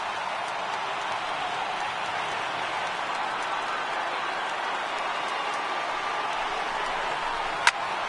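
Stadium crowd noise from a PS4 baseball game, a steady broad roar of cheering as fans rise to their feet, continuous and moderately loud, with one brief sharp crack near the end.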